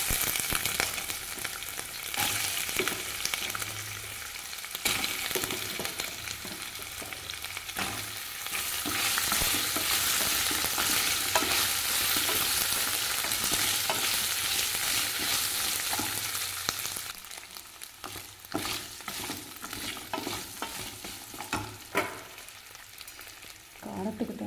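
Ginger and urad dal sizzle and fry steadily in hot oil, with occasional stirring scrapes in the pan, close and continuous without talk.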